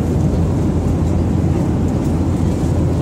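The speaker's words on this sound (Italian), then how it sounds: "Oggi sono su un aereo della Ryanair diretto a Edimburgo." Steady, loud broadband drone of a Ryanair airliner cabin in flight en route to Edinburgh, a constant low-pitched engine and air rush filling the whole stretch without breaks or speech.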